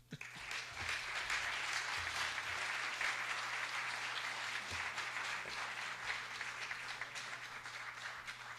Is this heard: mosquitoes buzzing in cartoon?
no